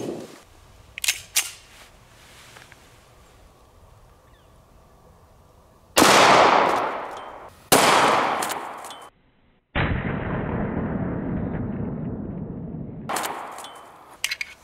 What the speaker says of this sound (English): We have a Springfield 1911 model A1, and we're gonna be loaded up with some Underwood ammo, 45 ACP,